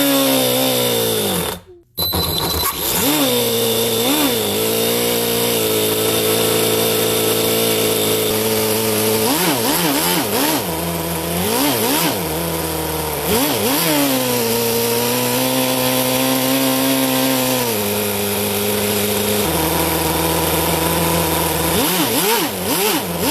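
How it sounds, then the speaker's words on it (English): A nitro-fuelled, water-cooled four-cylinder RC engine runs loud and continuously, its buzzing note rising and falling through repeated revs and short throttle swells after a brief cut near the start. "let the engine cool down and do one more short test run while filming it with the thermal camera"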